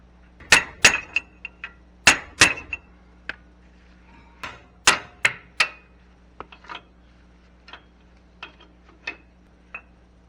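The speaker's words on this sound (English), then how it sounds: "Get the heavier hammer. Heavy hammer." Sharp metallic blows of a heavy hammer ring out in irregular bursts while repairing a bearing on a Grasshopper 718 mower, some doubled, each with a short bright clang that fades quickly, then lighter taps trailing off.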